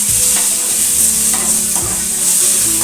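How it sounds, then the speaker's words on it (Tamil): Tomatoes sauté in a clay pot for fish curry with a loud, steady sizzle. Close, continuous stirring scrapes the pot throughout, and no one speaks. "அதனால் தக்காளி வந்து கொஞ்சம் வதங்கணும்."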